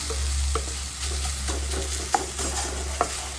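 Onions sautéing in a pan as a ginger-garlic paste is about to go in, with a steady sizzle under the stirring and a few sharp spatula clicks against the metal. No voices are heard.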